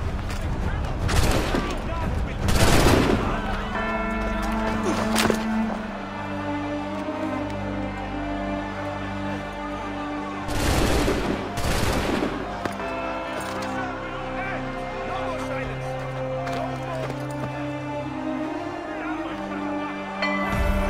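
Musket volleys crack out in Assassin's Creed 3 gameplay, several loud bursts of massed gunfire with a pair close together early and another pair near the middle, over steady orchestral music with voices speaking in between.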